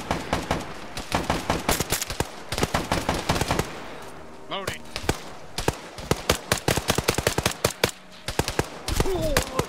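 Rapid automatic rifle and machine-gun fire in the tactical shooter Insurgency: Sandstorm, loud close bursts and strings of shots with brief pauses, a reload-like pause midway, and voices talking over the firefight.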